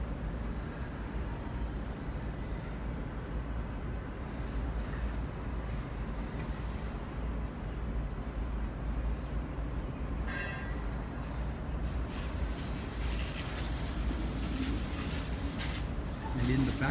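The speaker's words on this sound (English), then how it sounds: "K60 and K70 bound for City Circle via Town Hall service from Central" At a Sydney station platform, a Sydney Trains K set electric train produces a continuous low rumble and hiss of traction and ventilation noise that holds steady throughout, with faint distant announcements or voices mixed in.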